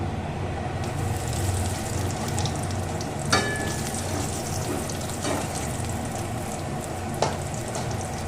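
Whole cardamom pods and cinnamon sticks frying in hot oil, a steady close sizzle running throughout with a few sharper crackles and pops, no talking.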